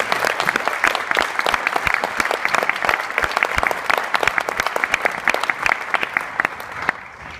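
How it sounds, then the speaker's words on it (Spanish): A seated audience applauds an author at a literary talk, with dense, crisp clapping that stays strong and even for about seven seconds before thinning out at the end. "les voy a pedir un aplauso para el autor"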